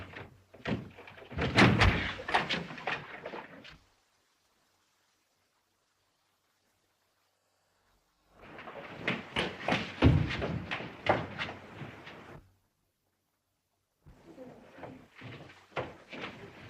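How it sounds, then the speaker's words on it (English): A door is being forced open in an old 1933 mystery film, with three long bursts of heavy, rapid pounding and thudding separated by silence. "Let's break the door down."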